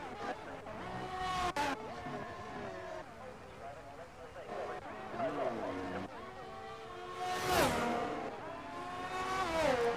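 A Formula 1 race car from the video game F1 22 on a flying lap around Azerbaijan's Baku circuit, its engine note rising and falling through gear changes, a loud pass near the eighth second, with a commentator talking throughout.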